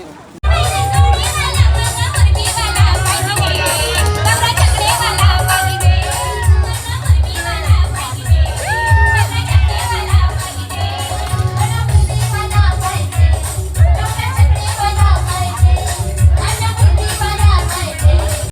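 A dense, loud crowd at an engagement party dinner, children shouting and many voices overlapping in a continuous noisy babble with occasional cheers.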